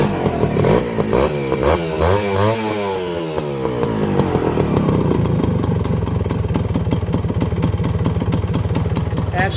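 Honda CDI H100S motorcycle engine being started, with cranking and sputtering before it catches and settles into a fast, even idle putter, loud and close, with a few revs and clattering along the way.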